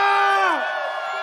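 A loud festival crowd at EDC Mexico, an electronic dance music event, lets out a long sustained Mexican grito, the massed shout swelling and then slowly falling in pitch over about a second, with dense crowd noise underneath.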